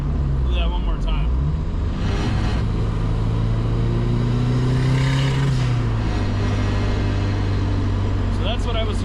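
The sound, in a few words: KA24DET turbo spooling and opening wastegate under throttle, Datsun 510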